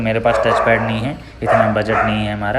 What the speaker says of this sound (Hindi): बाहर मेरा कुत्ता भी भौंक रहा है।